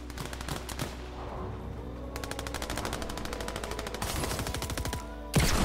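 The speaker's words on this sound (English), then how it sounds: "Is someone shooting them," Rapid video game gunfire, automatic bursts of shots rattling steadily through the whole stretch, loud and dense, with a sharper blast near the end.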